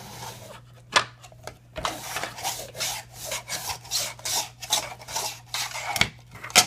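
Zucchini scrapes across the toothed blade of a LiBa mandoline slicer in quick repeated strokes, each pass a close, raspy rubbing swish with occasional sharper clicks.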